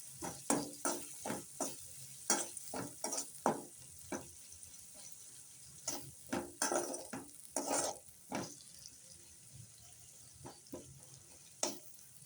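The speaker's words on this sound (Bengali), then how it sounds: "সেই তেলেই কিছুটা পেঁয়াজ মরিচ এখন ভেজে নিব।" Onion and chili frying in hot oil left over from frying eggplant, with sharp sizzling bursts as a utensil stirs them in the pan in an irregular rhythm, close and clear.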